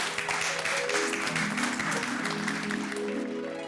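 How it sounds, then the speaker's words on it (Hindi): A room full of people at a society gathering welcomes chief guest Jethalal with steady applause throughout, while background music plays underneath. "तो उनके सम्मान में जोरदार तालियां।"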